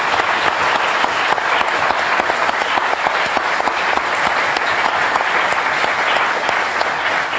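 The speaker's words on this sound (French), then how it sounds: "Je demande d'applaudir Max Bessette de Mondial." Studio audience on a French TV variety show applauds steadily and loudly, a dense even clatter of many hands that holds throughout without any talk.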